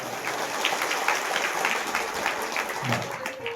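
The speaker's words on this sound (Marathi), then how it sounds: "सर्वांसाठी एकदा जोरदार टाळ्या वाजवा." Sustained applause from a gathered audience at a Shrimad Bhagwat Katha religious discourse, a steady wash of many hands clapping at moderate loudness with faint voices beneath, continuing without a break.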